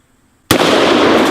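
A sudden loud blast from a Smith & Wesson .460 XVR Magnum revolver firing an A-frame round into a watermelon, followed by a sustained noisy burst of spray and debris, close and alone.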